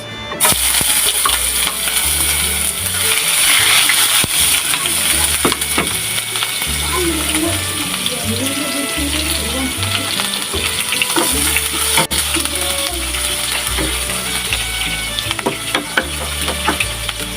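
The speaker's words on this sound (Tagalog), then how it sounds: "So, ayan, mainit na yung ating mantika. So, magigisa na tayo" Chopped aromatics hit hot cooking oil in a pan for a Filipino fiddlehead fern and sardine sauté, giving a loud, continuous close sizzle with occasional utensil scrapes and stirring clatter.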